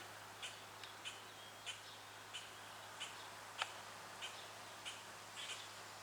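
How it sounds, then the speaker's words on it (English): Faint, short high chirps repeat at irregular intervals over a steady low hum, like a small bird calling at a distance. "What I'm hearing is this bird over here."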